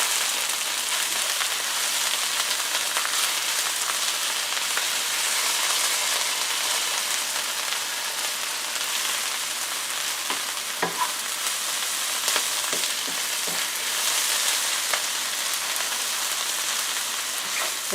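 Dandelion greens and bread sautéing in a pan, a loud continuous frying hiss with occasional clicks and scrapes of stirring, no voices.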